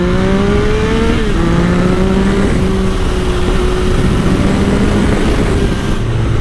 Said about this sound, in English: rev match downshifts on this for some time. Some nice crackles from that exhaust as well.